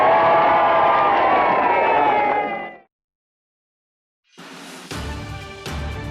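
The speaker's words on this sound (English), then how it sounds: "Let's have a real cheer for Mr. Nixon." A loud, dense crowd at a 1968 Richard Nixon campaign event cheers and roars for a few seconds, then cuts out; after a pause, fainter bursts of applause and crowd noise return.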